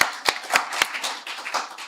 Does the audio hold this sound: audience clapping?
yes